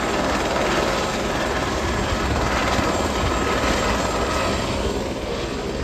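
A helicopter flies near Kedarnath in foggy mountain weather, its steady, loud rotor and engine drone filling the whole stretch with no voices over it.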